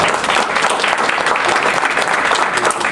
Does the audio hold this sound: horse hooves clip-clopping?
no